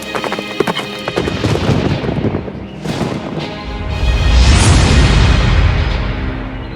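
A giant's galloping horse in a narrated fairy tale about a brave princess: loud, close hoofbeats drum steadily, a brief whinny-like cry rises midway, then a heavy rumbling rush builds toward the end, with no voices.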